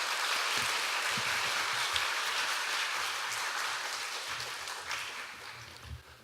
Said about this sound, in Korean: 다시 한번 뜨거운 박수로 한번 모셨으면 좋겠습니다